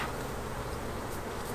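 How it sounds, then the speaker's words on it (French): Honey bees buzzing around hive frames during a honey harvest, a dense, steady close swarm hum filling the whole moment with no talk. "Marie-Christine prend soin d'enlever les abeilles sur les cadres pleins pour ne pas en déloger à la miellerie."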